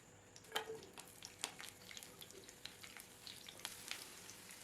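Onion fries quietly in oil in a frying pan, a faint crackle with scattered small pops and spits, with no voices.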